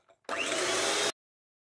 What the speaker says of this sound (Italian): Unisco lo zucchero e vado a montare.